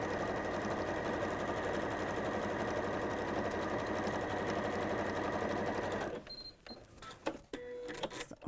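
A sewing machine stitches across the gathered ends of a fabric bowl, running steadily and loud for several seconds, then stopping, followed by a few short bursts and clicks.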